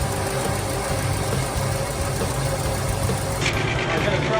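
A 1968 convertible barn-find car, started after sitting for over 30 years, idles with a steady, fairly loud rumbling drone that holds evenly throughout.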